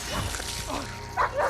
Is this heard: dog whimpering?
yes